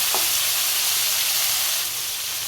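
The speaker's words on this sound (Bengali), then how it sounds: "সামান্য নুন আর হলুদ দিয়ে ভেজে নিতে হবে আলুগুলোকে।" Diced potatoes frying in hot oil with cumin seeds, a dense, steady close sizzle with a faint clink near the start and no talk.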